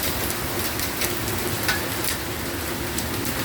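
Torrential rain falls with hail in a steady, dense hiss of drops, with scattered sharp ticks from pieces striking surfaces throughout. No voices.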